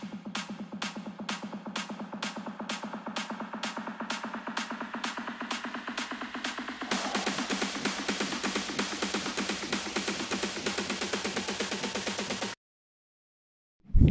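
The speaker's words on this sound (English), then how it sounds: "Add some build-up drums." Build-up drums for an Arabic slap house track programmed in FL Studio: steady repeated hits that tighten into a dense, faster roll halfway through, then cut abruptly to silence before a brief burst at the end.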